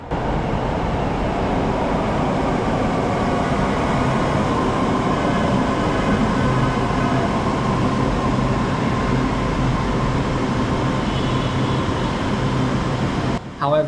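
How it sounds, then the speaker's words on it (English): A Hitachi-built metro train arrives at a station in Vietnam, a loud steady rumble and rolling roar filling the whole stretch, with a faint voice talking beneath and a brief thump at the end. "And here comes our train, built by Hitachi."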